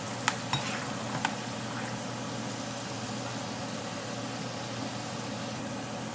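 Food frying in hot oil gives a faint, steady sizzle throughout, with a few small pops near the start.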